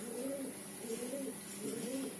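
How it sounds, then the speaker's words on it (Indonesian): Pigeons or doves coo in repeated soft phrases near a shooting spot, steady and moderately close over a constant background hiss, with no talk. "burung-burung yang ada di sekitar"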